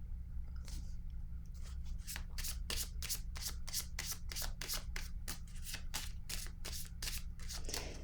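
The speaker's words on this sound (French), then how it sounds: "Là, je vais piger une carte ici" Tarot cards shuffled by hand, a rapid series of crisp riffling flicks in quick succession over about seven seconds, close and clear with no talking.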